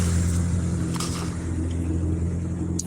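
A Mazda Miata engine hums at a steady idle-to-cruise rumble while the tuned car is driven, low and constant with faint clicks and a brief knock near the end, no voices.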